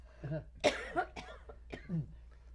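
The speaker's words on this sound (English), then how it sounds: "I'm going to cough." A few short coughs close to the microphone, spaced unevenly over a couple of seconds in a quiet room.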